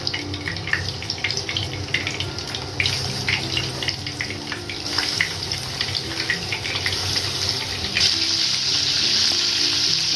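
Prawns coated with turmeric and salt fry in a little white oil in a kadai wok for prawn curry, making a dense, continuous sizzle with bright spattering pops, close and loud throughout, with no voices.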